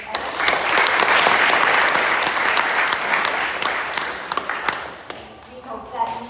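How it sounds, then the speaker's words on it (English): An audience at an arts month awards celebration gives a sustained round of applause, dense clapping that swells and then thins out, with voices talking over the tail. "we'll give him a round of applause for his effort."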